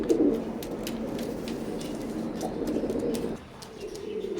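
A golden teddy running pair of pigeons coos while feeding their chicks, a continuous low throaty cooing close by with soft chirps, no talk.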